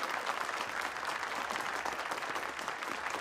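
A crowd in a film scene applauds, a dense, even burst of many hands clapping that continues steadily at moderate volume.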